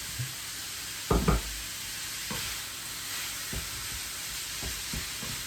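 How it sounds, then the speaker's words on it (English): 750 grams of minced beef fries in hot oil with a constant sizzling hiss, broken by a few knocks and scrapes of stirring, the loudest pair near the start. "Let it fry for a few minutes"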